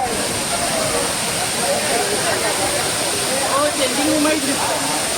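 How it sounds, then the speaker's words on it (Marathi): Savdav waterfall near Kankavli, a constant loud roar of falling water close at hand, steady and unbroken, with someone talking over it. "हा अतिशय सुंदर असा हा सावडावचा धबधबा"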